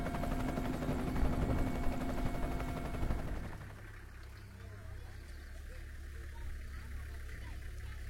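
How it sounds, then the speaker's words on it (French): A helicopter flying to Fataki in the Democratic Republic of the Congo during a UN peacekeeping mission gives a loud, dense rotor and engine roar for about three seconds, then a quieter steady rumble. "Aujourd'hui, on va à Fataki par hélicoptère."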